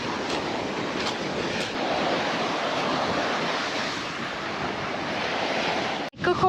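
Sea waves on the wild Murcia coast of Spain wash in as a steady, loud broadband roar of surf, with gusty wind noise on the microphone, continuing without pause until a brief dropout near the end.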